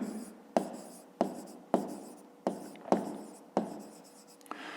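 Pen on paper during a fifth-grade math exercise, heard as seven or eight short, sharp scratching strokes in a regular rhythm, each quickly fading, close and fairly quiet with no talk.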